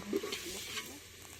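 Onion and ginger-garlic paste frying for an Odia mutton curry, a soft steady sizzle with faint stirring scrapes, close but low in level and without talk.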